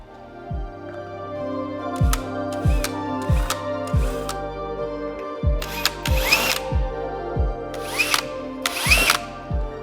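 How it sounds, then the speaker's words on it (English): A power drill fitted with a quarter-inch bit spins up in short repeated bursts, marking hole positions in a car bumper of a Toyota GR86 during an APR Performance aero kit fit-up, with sharp clicks and taps between bursts and no talk. "I've got a drill with a 1/4 inch drill bit, and I'm gonna just make some small marks centered in these holes"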